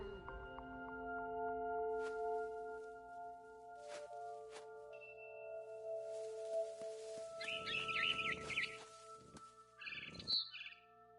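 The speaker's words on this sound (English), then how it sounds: "Then I heard chirping outside my window. It was a barn swallow going back to her nest." A barn swallow chirps near its nest in the game What Remains of Edith Finch, with a few quick bright twitters late in the stretch over soft, sustained musical tones.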